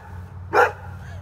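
A single sharp bark from a guard dog rings out once, close and fairly loud, over a low steady outdoor hum.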